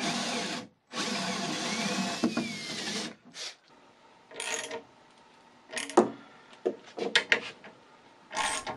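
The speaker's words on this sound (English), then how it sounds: "Luckily, cast iron drills very easily." A power drill bores holes through the cast iron tables of a homemade 12-inch jointer, with a long steady whine broken by short pauses, then scattered bursts and clinks of the bit and chips.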